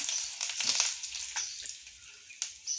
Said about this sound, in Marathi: तेल गरम झालेलं आहे, तर तेलात आपण मोहरी टाकून घेऊया। 2-4 कढीपत्त्याचे पानं।